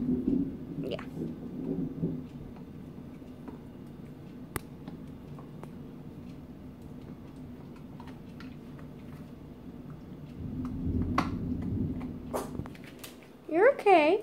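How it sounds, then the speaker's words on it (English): Low, distant thunder from a Labor Day storm rolls in as soft rumbles near the start and again later, over a quiet, gloomy background, with a brief high vocal sound at the very end. "But I really want you guys to hear the thunder."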